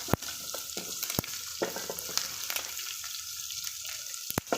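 Thinly sliced onions fry in hot oil left over from frying prawns, giving a steady close sizzle with occasional sharp clicks and stirring scrapes.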